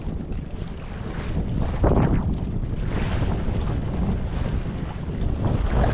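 Strong wind roars and buffets continuously, a loud, dense rush with no voices.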